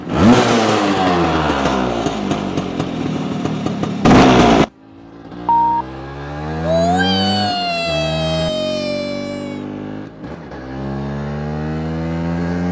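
A Vespa 180 SS scooter with an SI carburettor running on reserve fuel, its engine revving up and down through gear changes, loud and close, with a brief whistle-like tone mid-ride.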